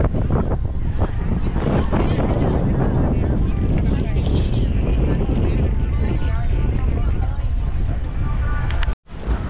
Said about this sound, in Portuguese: Tá vendo, pessoal, como tá ventando bastante aqui agora?